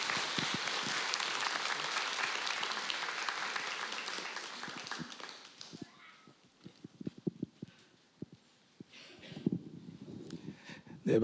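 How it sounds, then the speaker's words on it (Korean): A church congregation applauds during a Sunday service to welcome a new family, a broad wash of clapping that fades out after about six seconds, leaving scattered taps and shuffling in a quiet room. "박수로 환영해 주시길 부탁드립니다"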